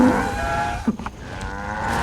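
Cattle moo in the Far Cry 5 video game, a deep drawn-out lowing call that rises briefly near the middle of a continuous game background and then fades.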